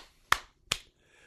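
Two sharp, close hand claps a fraction of a second apart, crisp and isolated against near silence, with no one speaking.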